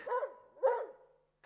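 Timmy the dog barks twice in a Famous Five Christmas audiobook, two quiet, separate woofs with a short tail, followed by silence.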